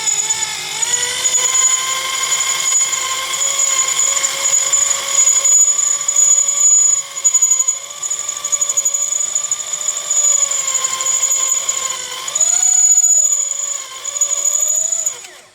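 A Makita electric drill driver whines at high speed, a steady bright tone that briefly drops and rises again as it drills through alloy plate.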